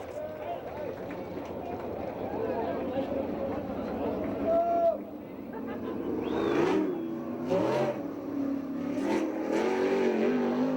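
A 410 non-wing sprint car races around the track at Victorville, its engine roaring and shifting pitch as it circles, with a public-address announcer talking over much of it.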